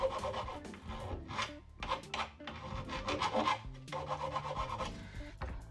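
Aluminium wind chime tube being smoothed with sandpaper or a file: continuous rhythmic rasping strokes, close and steady for several seconds, with no talk.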